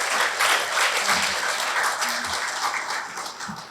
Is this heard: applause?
yes